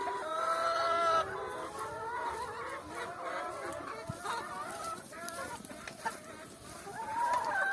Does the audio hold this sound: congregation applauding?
no